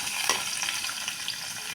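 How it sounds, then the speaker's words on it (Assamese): Cumin, garlic, green chilli and onion fry in hot oil with a loud, continuous sizzle, close by, and a few light stirring scrapes mixed in. "প্ৰথমতে মই গৰম তেলত অলপ ইয়াত জিৰা দি দিছোঁ। জিৰাখিনি ৰঙচুৱা হোৱালৈকে ভাজি থাকিম"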